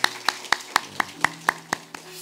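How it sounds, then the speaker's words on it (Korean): A congregation claps in unison during a Sunday morning worship service at a Korean Holiness church: about nine sharp, evenly spaced claps at a brisk steady beat, fading slightly at the end. "박수 한번 해주세요"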